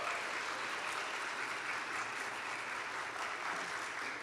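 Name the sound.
audience applause for performing arts scholars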